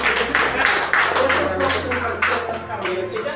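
An audience claps hands at a business promotion gathering, a run of sharp, rhythmic claps while someone talks loudly over them.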